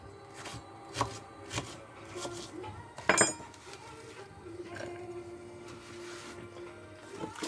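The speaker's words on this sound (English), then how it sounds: "I'm just dicing mine up a little bit" Food being diced with a knife on a cutting board while making a chicken and mushroom pie, light uneven taps and clicks at a moderate pace, fairly close, with one sharper clatter partway through.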